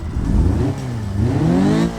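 A 67-horsepower Autobello Aria Anniversario retro Italian hot hatch with a sportier exhaust revs in the BeamNG driving game, the loud engine note rising, dipping and climbing again close by.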